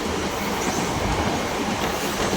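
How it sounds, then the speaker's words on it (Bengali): A train runs on its rails on the way toward Bardhaman, giving a loud, close, steady rumble and rattle of wheels and carriages with no let-up and no voices. "ট্রেনটা কিন্তু এখনও বর্ধমান ঢুকেনি যাচ্ছে"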